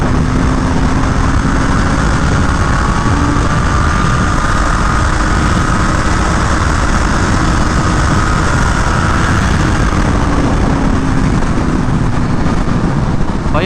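A tuned BMW M1000R motorcycle roars continuously at speed during a test ride, a loud, steady engine drone heavily blended with wind rush and no pauses.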